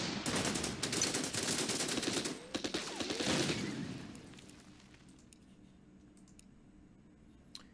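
Units open fire in the Order of Battle wargame, a loud rattling fusillade of rapid machine-gun bursts and shots that fades after a few seconds into a quiet tail with sparse distant clicks.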